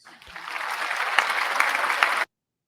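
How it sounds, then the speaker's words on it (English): A crowd claps together, building quickly to a dense, even applause that cuts off abruptly near the end. "Clap your hands."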